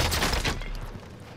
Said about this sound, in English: gunshot. By the helicopter.